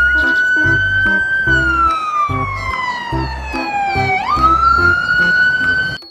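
A toy siren wails up and down continuously over a bouncy electronic tune, loud and close.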